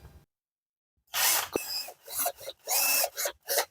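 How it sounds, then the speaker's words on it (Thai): A wooden pestle being drilled for a C-hook screw, giving several short, close, rasping bursts of bit biting into wood, separated by brief pauses after a quiet start. "ผมก็จะมาเจาะตรงนี้ครับ"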